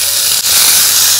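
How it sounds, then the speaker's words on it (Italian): A tuna fillet sears in a very hot oiled pan, giving a loud, continuous steamy hiss with a brief dip partway through as it settles. "Scottalo con la padella bollente."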